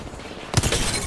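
An enemy's shield cracking in the video game Apex Legends, a single sharp glassy shatter bursting loudly after a quieter stretch of gunfire-laden game noise, then a ringing scatter of fragments.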